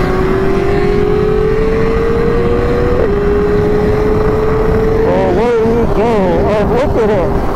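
A car runs on the COTA race track at a Double R Fest event on tires not yet up to temperature. A loud, steady engine drone rises gradually, heavy wind rush lies under it, and voices come in near the end.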